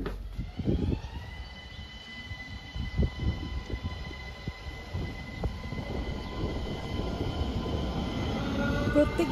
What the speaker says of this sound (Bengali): স্টেশনে এসে দেখলাম ট্রেন যাচ্ছে